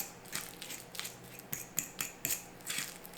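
Oatmeal ingredients being mixed and mashed in a bowl: a run of short scraping, clicking strokes repeating at an uneven, steady rhythm, close and fairly quiet, with no voices.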